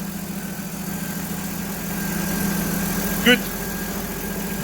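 A 1960 Chevrolet Biscayne engine idles smoothly with a steady low hum and no ticking, close and continuous, while someone speaks briefly over it.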